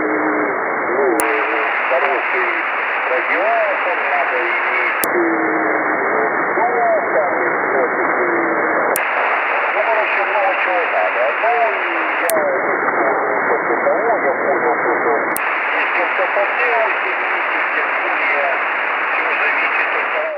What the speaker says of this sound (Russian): послушаем еще слабенький сигнальчик на 80-метровом диапазоне